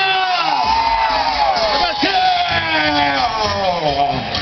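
A concert crowd of women screaming and cheering, a dense loud wall of high-pitched shrieks and yells sustained throughout, close and continuous.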